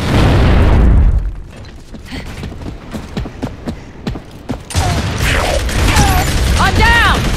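A frag grenade bursts in a video game with a loud boom, followed by a stretch of mechanical clicks and rattles before chaotic noise and shrill calls rise again.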